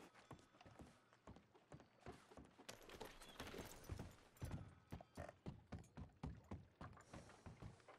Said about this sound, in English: I'm gonna go on my horse.